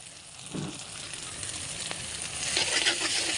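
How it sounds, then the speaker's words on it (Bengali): Egg and noodles frying together in a pan with coriander leaves, a steady close sizzle that swells toward the end, with a few stirring scrapes along the way and no voices. "এখানে একটা ডিম ভালো করে একটু ভেজে নেব"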